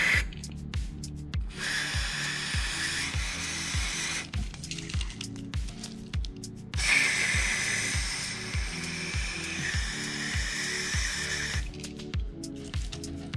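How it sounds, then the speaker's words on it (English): Two long bursts of EGR cleaner spray hiss into the EGR valve of a 2010 Mazda 6 over a steady rhythmic engine idle, the spray loud and close, stopping briefly between bursts. "what you wanna do is EGR cleaner, obviously. And spray in there"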